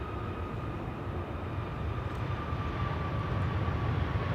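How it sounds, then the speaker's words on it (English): A KLM Boeing 737 arriving at Amsterdam Schiphol from Copenhagen produces a steady, distant broadband jet roar that swells slightly toward the end, with no speech over it. "the lights we're now looking at are of KLM flight 1268, arriving from Copenhagen, and that is a 737 from KLM"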